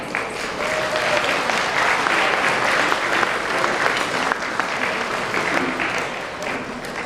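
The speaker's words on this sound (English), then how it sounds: "can we please give a round of applause for her helping to put on this beautiful," Sustained applause from an audience at an annual honoring and cultural celebration event, a steady full clapping that swells and then gradually fades out.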